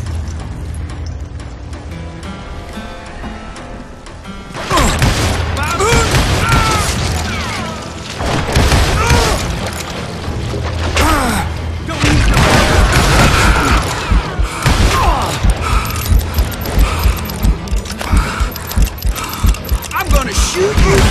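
Loud Old West shootout in the video game Call of Juarez Gunslinger: a dense barrage of repeated gunshots and crashes for about sixteen seconds, following a quieter stretch, with shouting mixed into the chaos.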